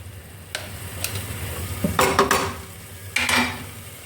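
Masala ingredients sauté in a pan for a chicken curry, a low sizzle under a few sharp spatula scrapes and metallic clinks against the pan, close by and without talking.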